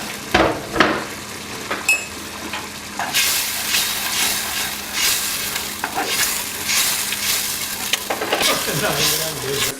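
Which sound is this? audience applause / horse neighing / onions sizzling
onions sizzling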